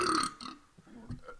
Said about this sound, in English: burp so powerful it spawned 2 miniature burps